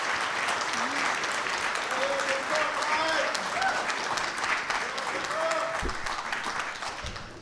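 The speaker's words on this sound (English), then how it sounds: "Give her a round of applause." Audience applause at an evening community event in Ypsilanti, Michigan, steady and sustained throughout, with a few voices calling out over the clapping.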